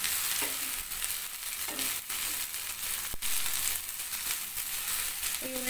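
Onions fry in a pan for a chicken biryani, a dense, even sizzle with periodic spoon stirs and scrapes, close and fairly loud, with no speech.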